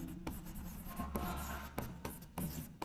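A pen scratches across paper as a date is written, with short strokes broken by brief lifts and small taps, close and fairly quiet, with no talk.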